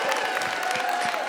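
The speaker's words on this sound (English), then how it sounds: "Guys, clap it up for Sarah." An audience at a live dating show on stage applauds a contestant, a short burst of dense crowd clapping with light cheering mixed in, steady and moderately loud.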